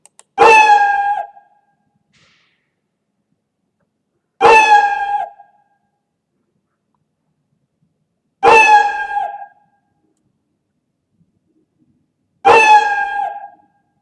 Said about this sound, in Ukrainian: Собака гавкав, кіт нявкав, і вони йшли один від одного.